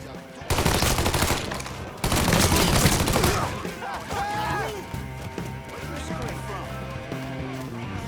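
Bursts of rapid gunfire crackle loudly in Mafia III: Definitive Edition, with heavy volleys early on, then scattered shots and effects as voices talk over the action.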